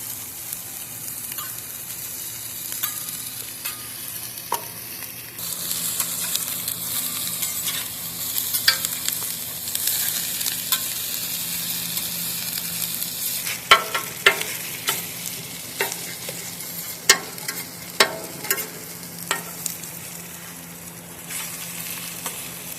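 Gyro meat and onions fry in their own melted fat with no added oil, giving a steady, close sizzle with scattered crackles and occasional stirring scrapes, louder and busier partway through.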